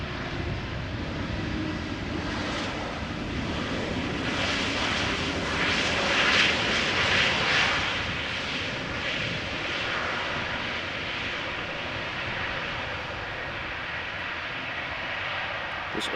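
A Vueling Airbus A320neo arriving from Barcelona lands at Amsterdam Schiphol in gusty wind, its engine roar swelling steadily as it nears, peaking mid-pass and then settling into a sustained broad rumble, with no talking.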